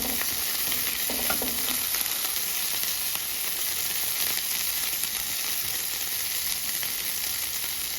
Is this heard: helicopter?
no